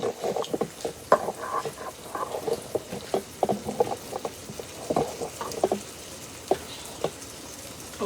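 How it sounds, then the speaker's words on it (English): Soft, irregular bubbling and popping of water boiling in a pot, close by and continuous. "my water is boiling here"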